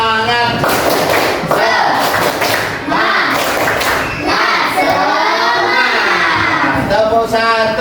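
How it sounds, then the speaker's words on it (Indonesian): A primary-school class claps out a rhythmic cheer routine with a teacher, sharp hand claps and thumps landing in a patterned beat under loud children's chanting and voices throughout. "Aina minta kalian tepuk semangat ya."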